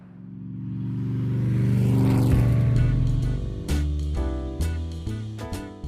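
An old Mercedes 380 SL sports car engine rumbles and builds as the car accelerates past, then shifts through gears with loud, rhythmic bursts, close and powerful.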